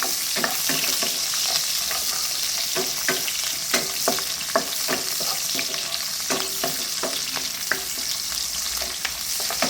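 Onions frying with dried red chilies, garlic and curry leaves for a village-style fish curry, with a steady hiss of sizzling oil broken by repeated scraping clicks of a spoon stirring the pan, close up and with no voices.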